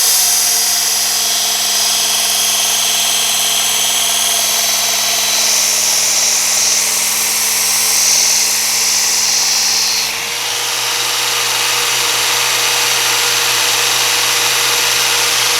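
A knife blade is ground on a powered sharpening machine, a loud, steady mechanical whine with a high grinding hiss that shifts abruptly about two-thirds of the way through.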